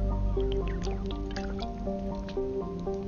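Someone drinks water from a cleaned-out Diet Pepsi plastic bottle up close, making wet sloshing and swallowing sounds over steady background game music.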